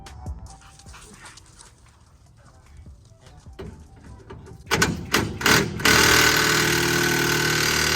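Bolts being worked loose from the bed of a 1988 Chevy farm truck: quiet clanking and scraping at first, then a loud, sustained rattling burst of tool noise that fills the final seconds.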